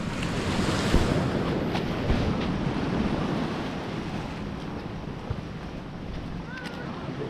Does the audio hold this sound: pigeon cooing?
no